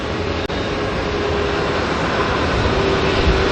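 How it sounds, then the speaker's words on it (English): A twin-turboprop ATR airliner arriving from Nelson at Auckland Airport gives a steady, loud broadband roar with a faint constant whine, continuous throughout with no talking. "here's our ATR coming in from Nelson now, NZ5074"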